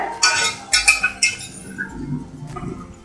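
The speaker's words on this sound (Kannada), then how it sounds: "ಇವಾಗ ಬೇಯಿಸಿಟ್ಕೊಂಡಿರೋಂಥ ದಾಲ್ನ ಹಾಕ್ತೀನಿ." Cooked moong dal is added to a hot tempering in a pot for hesaru bele tovve. A metal spoon clinks and scrapes against the vessel in a quick flurry of close knocks, followed by softer stirring clatter.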